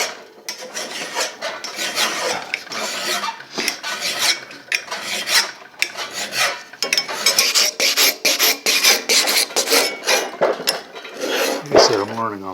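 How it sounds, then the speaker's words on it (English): A steel knife blank made from an old file being shaped with a hand file, producing close, loud, repeated rasping strokes in an uneven rhythm with metallic scraping throughout. "It won't be so hard filing."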